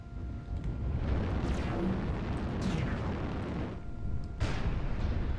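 Missile explosions in the MechWarrior Online mech combat game: a dense, continuous rumbling barrage of blasts with several sharper bursts rising out of it, loud and sustained throughout.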